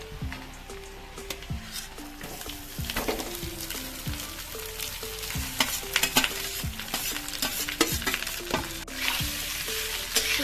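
Leftover cooked rice being stirred and mixed in a hot pan, with a steady sizzle of frying under repeated close scraping and tapping strokes of a spoon against the pan.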